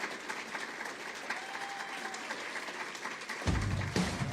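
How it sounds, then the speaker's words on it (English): An audience claps at a political speech on Social Security, a spread-out crowd applause that is moderately distant and steady, then swells louder with nearer, denser clapping in the final second. "a big round of applause for former Senator Roy Blunt"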